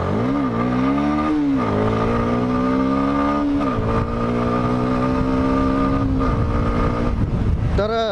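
A CFMOTO 150 NK motorcycle ridden in sports mode, its engine loud and close with steady rising and falling revs and gear changes, wind rushing throughout.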